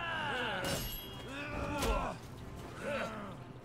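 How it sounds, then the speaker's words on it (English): Dian Wei, a warrior character in a Dynasty Warriors–style game, pants in heavy breathy bursts behind busy battle sounds, with clashing and impacts scattered through the mix. "Dianwei panting over here in the background"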